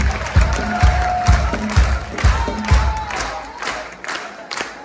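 A theatre audience at a charity gala concert claps rhythmically in unison and cheers and shouts over it, loud and close, the beat slackening toward the end.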